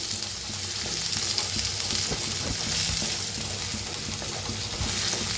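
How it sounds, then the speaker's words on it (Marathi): Onion frying in a pan, a continuous close sizzle with soft crackles and faint stirring, no voices. "कांदा छान असा भाजायला लागलेला आहे।"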